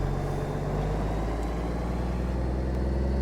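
Truck engine in American Truck Simulator, a Kenworth K100e on the road from Amarillo to Santa Fe, producing a continuous low, rumbling drone that stays steady and fairly quiet for the whole stretch, with no talking.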